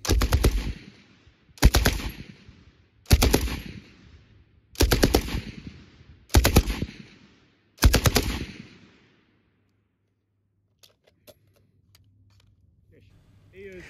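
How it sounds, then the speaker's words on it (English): A Bren light machine gun firing historical 1950s Mark 7 surplus ammunition, six loud sharp bursts at an even rhythm, each ringing out before the next, then near silence with faint clicks. "a practice was shot with the Bren and the light role with historical surplus ammunition, Mark 7 from the 1950s"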